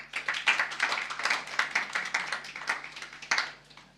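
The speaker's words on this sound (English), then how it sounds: "Please welcome her with a loud round of applause." Audience applause welcoming an author onto the stage at a book talk on antisemitism, steady dense clapping from a crowd for about four seconds, fairly close with no talk over it.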